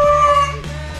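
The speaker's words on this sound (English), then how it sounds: "Oh, it's that dog." A dog in a video game lets out a tonal, wavering howl with a whimpering edge, loud and close for about a second before it drops away.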